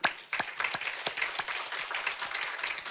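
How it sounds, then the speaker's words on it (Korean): A small church congregation at a Sunday morning service breaks into brisk applause, with close, sharp individual hand claps starting loud and then settling into a steady patter of clapping. "박수 한번 쳐드려."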